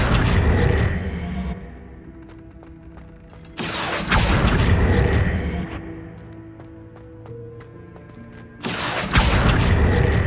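A fiery Incendio spell goes off in a Harry Potter video game, two loud whooshing bursts several seconds apart, each a short roaring flare set against ambient game music and mechanical sounds.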